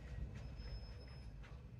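Low, steady rumble of a train carriage interior on a late-night ride near midnight, with faint rolling wheel noise and a thin high whine running through the whole stretch, no voices.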